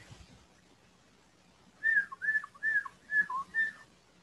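A person whistles an imitation of a cardinal's call, five short clear slurred whistled notes in an even series, close and fairly loud against a quiet background.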